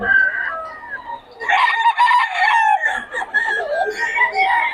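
A rooster crows loudly and long amid the clucking and squawking of several chickens close by at a Bocaue poultry seller.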